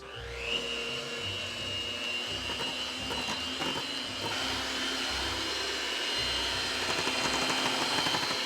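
An electric mixer whips egg whites for keto bread with a steady, loud whirring drone and high motor whine that holds for the whole stretch, with slight shifts in pitch as the beaters work.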